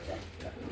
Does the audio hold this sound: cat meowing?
no